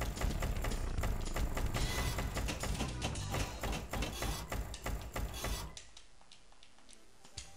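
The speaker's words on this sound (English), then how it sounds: "there's a plunger noise you're hearing there" Rapid mechanical clacking from a Pinball FX table, with a pinball plunger and flipper buttons hammered in a fast, steady run of loud taps before stopping abruptly into quieter table ambience.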